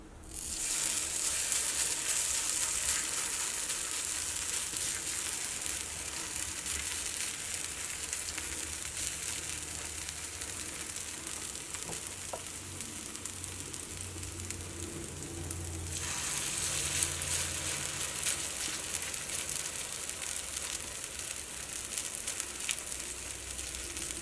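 Egg and potato snack batter fries in a hot pan, giving a steady, close sizzle that runs throughout without pause, and no one talks over it.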